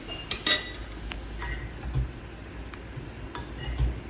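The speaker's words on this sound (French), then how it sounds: "Donc là, on mélange sans trop casser." Spatula scrapes and light metallic clinks in a pan as scrambled eggs are folded together with bread, short irregular knocks close by over a soft background hiss.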